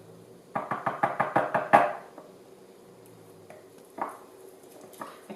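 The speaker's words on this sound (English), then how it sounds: "kind of scrape the top of the jar too, just to keep some of the batter down there" A spatula scrapes thick, lumpy bread batter around the inside of a jar, making a quick run of about eight close, rhythmic scraping knocks, then a few fainter scrapes after a pause.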